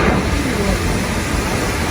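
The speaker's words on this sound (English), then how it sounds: "The engineer is releasing some steam out of the boiler in hopes of getting rid of the debris" A steam locomotive on an excursion train ride blows down its boiler, releasing a loud, steady, broadband hiss of escaping steam that runs unbroken, close and forceful.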